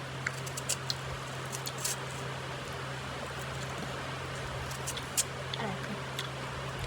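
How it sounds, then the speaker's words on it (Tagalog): Heavy rain pours down as a faint, steady hiss with soft patter, joined by a constant low electrical hum and a few scattered sharper drips. "Lakas naman ng ulan."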